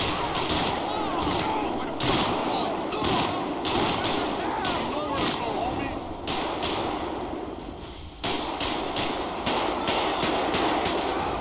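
Police gunfire from the video game GTA rattles in dense, loud repeated bursts that run almost without pause, with a short lull near the end.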